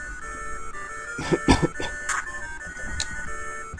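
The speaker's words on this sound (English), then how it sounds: "I think I'm coming up with a cough again." A person coughs a couple of times close to the mic, short rough bursts over bright electronic game music from a Harry Potter and the Philosopher's Stone GBA game.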